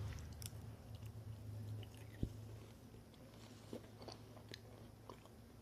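Fried pork chop seasoned with garlic being bitten and chewed: soft, moist, close-up chewing with faint squishes and one sharp crunch partway through, quiet and without talk.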